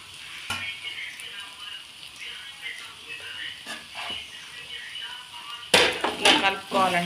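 Rice stirred into a sizzling masala gravy in a pan for veg biryani: steady frying sizzle with scraping spoon strokes against the metal, and a louder burst of hissing and clatter near the end.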